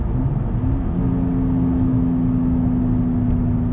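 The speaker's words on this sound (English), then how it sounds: "So right now I'm gonna downshift here." A 2016 or newer third-generation Toyota Tacoma engine drones steadily from inside the cab during a downshift, a loud, even hum with a sustained tone shifting upward partway through.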